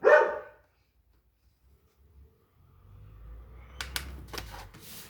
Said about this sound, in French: C'est mon chien que vous entendez.